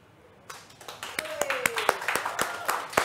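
Several people clap hands in a quick, uneven burst during a Soto Betawi cooking class, a dozen or so sharp claps with a brief tone and faint voices mixed in.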